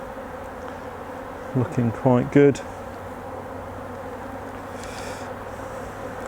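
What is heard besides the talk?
honeybees buzzing around an opened hive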